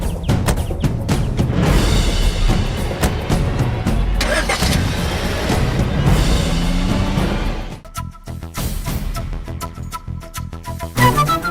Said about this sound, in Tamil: தண்டபாணி, வா, வந்து வண்டி எடு.